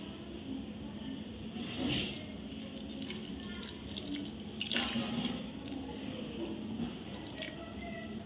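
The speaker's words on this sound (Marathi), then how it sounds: "हा आता भिजवण्यासाठी आपण त्याच्यात पाणी घालणार आहोत" Water poured from a vessel onto sabudana (tapioca pearls) in a pot to soak them, a steady running splash with a couple of heavier gushes, close and continuous.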